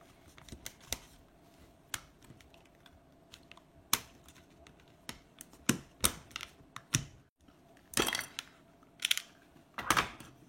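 A knife blade cuts through material along a marked line after a ruler is lifted away, giving a string of sharp little clicks and snips of uneven rhythm, quiet and close, with a couple of louder rasping strokes near the end.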